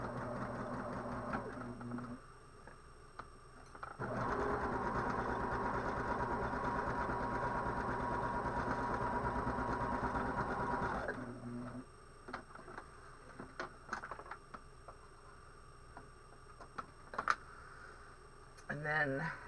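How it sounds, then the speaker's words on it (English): Sewing machine back-stitching an origami apron, a steady close whir that runs for several seconds and then stops, followed by clicks and light handling, with a voice speaking over parts of it. "Again, the pin is up, and I am back stitching."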